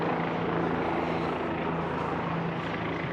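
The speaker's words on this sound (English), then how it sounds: "The helicopters are really hovering." Helicopters hover low over Manhattan, giving a loud, steady rotor and engine drone that holds without a break and fills the city air.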